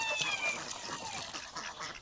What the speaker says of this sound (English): And my guineas are screaming.